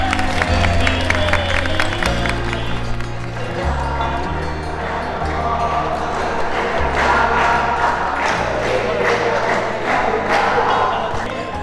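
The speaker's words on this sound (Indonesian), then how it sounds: "Tepuk tangan dong." Audience applause and crowd noise at a school state-defense (bela negara) event with students performing chants, a steady dense clapping wash over a rhythmic low drum-like pulse, loud and continuous throughout.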